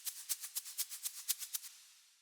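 High layer of organic Foley shakers in an Afro House remix, about a dozen crisp bright shakes in a steady quick rhythm, close and soft, trailing off into a short reverb tail with no voices.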